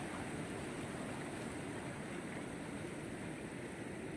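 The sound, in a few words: fast-flowing water at Kaleekesam waterfall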